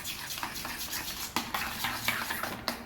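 A spoon stirring and scraping burger sauce in a bowl, giving soft, irregular clinks and swishes close by, without any talk.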